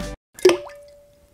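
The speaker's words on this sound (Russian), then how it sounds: "Давайте кидать его в воду." A piece of gummy candy hits water with a single clear plop and a short splashy burst, leaving a faint ringing tone that fades slowly, heard alone after a brief low noise at the start.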